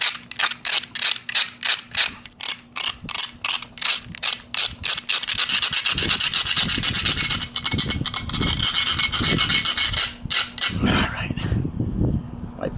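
A knife dragged through a carbide sharpener wearing down its plastic handle, a run of rapid rasping strokes in a steady rhythm, then a continuous harsh grinding with someone speaking over it.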